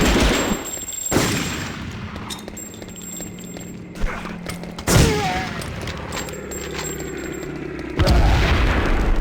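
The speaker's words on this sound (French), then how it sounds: "J'ai balancé une grenade." Grenade blasts and bursts of gunfire in the Medal of Honor remake, with sharp broadband cracks at several points over a steady battlefield din, close and loud.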